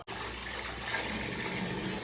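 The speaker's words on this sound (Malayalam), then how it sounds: "അവിടെ പൈപ്പ് തുറന്നിട്ട് ഞാൻ അവിടുത്തെ വെള്ളം കാണിച്ചിട്ടുണ്ട്" An opened pipe tap at a lodge runs muddy, iron-laden water in a constant, close gushing stream that holds steady throughout, with no voices.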